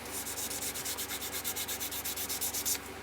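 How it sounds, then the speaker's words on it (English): Paint on a Chevy build is wet-sanded by hand with 2000 grit sandpaper: a close, steady run of quick back-and-forth rubbing strokes, evenly paced, with no voices. "I don't have to be as extensive with the 2000 grit, because really all I'm doing is taking out some imperfections left by the 1500."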